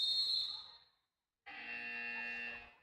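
An end-of-game buzzer at a freshman boys' high school basketball game in a gym sounds twice: a short loud electronic tone, a brief gap, then a longer, steady buzzing blast.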